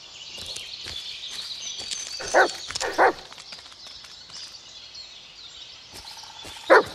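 A dog in the Blair Witch video game barks three times, two sharp barks close together and a third after a pause, over a steady wash of in-game ambient sound.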